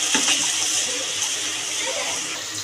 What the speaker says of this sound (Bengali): এবার আমি জল দিয়ে দেবো মশলাটার মধ্যে।